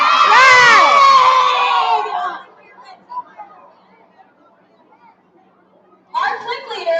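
Children cheer and shout loudly together at a school kick-off assembly, a dense burst for about two seconds that fades to quiet murmurs before another rise of young voices near the end.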